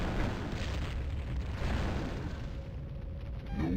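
Grenade launcher blasts in the video game Fire Warrior: low, rumbling booms that roll continuously at moderate level, with a brief rising whoosh near the end.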